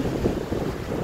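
Strong wind in Ilocos roars and buffets steadily, with a low rumbling rush that sounds like gusts hitting the microphone outdoors.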